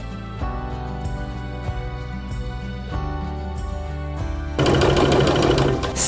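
A sewing machine runs steadily as it stitches bias binding fabric strips with short stitches, a close mechanical whirring hum with brief pauses and restarts, then a louder, busier run at the end.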